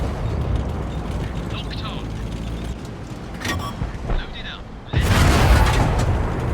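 HE tank shells burst in a tank battle game, a heavy loud boom hitting near the end after a stretch of rumbling engine and mechanical noise, with someone talking over it.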